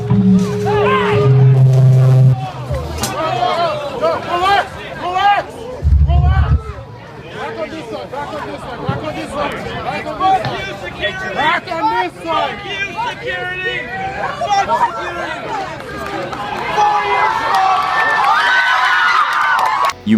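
At a pop punk concert, a large crowd shouts and chants together in rhythmic bursts, with loud cheering and babble filling the space and rising toward the end.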